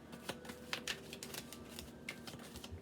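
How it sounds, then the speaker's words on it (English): Tarot cards being shuffled by hand, a quiet run of soft papery riffles and flicks with a few sharper snaps, close up and alone with no talking. "thank you for being patient with me while I shuffle"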